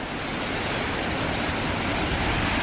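A rushing waterfall in Japan pours as a loud, steady, broadband roar, close and unbroken, with no voices over it.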